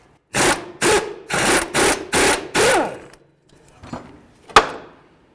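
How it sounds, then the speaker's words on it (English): A wrench works the lower mounting nut of a front sway bar link on a 2008-16 Chrysler Town & Country, giving six quick rhythmic ratcheting bursts followed by a few scattered metallic clicks and taps, close and clear. "So let's remove the lower mounting nut"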